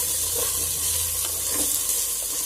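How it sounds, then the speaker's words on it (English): Mixed vegetables sauteing for veg biryani sizzle steadily in a hot pan, a close, dense continuous hiss with faint stirring scrapes and no voices. "The Veggies need to be sauteed for around 2-3 minutes."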